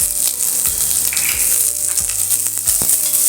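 Chopped ginger, garlic, onion and green chilli fry in hot oil with a loud, close sizzle, crackling continuously with small spatters and a few soft stirring knocks, no speech.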